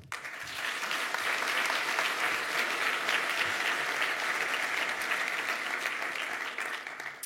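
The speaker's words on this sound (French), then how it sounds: "Vous pouvez l'applaudir." A large audience at a tech conference talk applauds warmly for several seconds, a dense even wash of clapping that swells and then tapers off.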